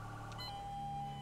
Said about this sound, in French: le deuxième son de klaxon